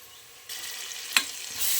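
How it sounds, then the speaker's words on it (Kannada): Ground paste of mint, coriander, ginger, garlic, whole spices and garam masala sizzles in oil with onions for chicken biryani; the hiss jumps up sharply partway in, with a brief clack of a utensil and steady frying after, no talking. "ಇವಾಗ ಹಾಕಿ ಇದನ್ನು ಒಂದು ಎರಡು ನಿಮಿಷ ಹಸಿ ವಾಸನೆ ಹೋಗೋ ತನಕ ಚೆನ್ನಾಗಿ ಫ್ರೈ ಮಾಡ್ಕೋಬೇಕು"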